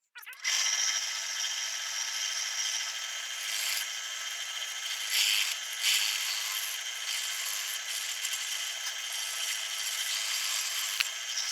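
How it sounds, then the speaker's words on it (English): A drill press runs steadily for several seconds, a loud, continuous whirring and grinding of the bit cutting into an old rusted file, up close. "so we got this in our drill press."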